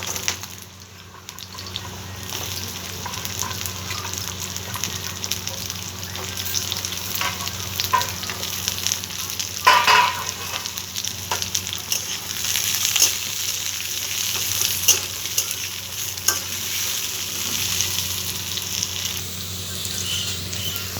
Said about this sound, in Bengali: এবার দিয়ে দিচ্ছি কেটে রাখা আলুর টুকরোগুলো।